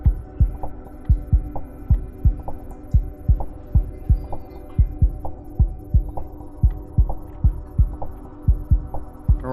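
A 3D printer with Revo nozzles runs its nozzle change routine: a steady low hum with soft, regular thumping pulses about twice a second, close and fairly quiet.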